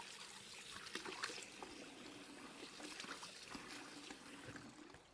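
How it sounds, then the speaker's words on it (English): Tap water runs steadily while hands are washed at a kitchen sink after making a Korean-style chicken burger, a continuous close trickle and splash with no talking. "Wash my hands"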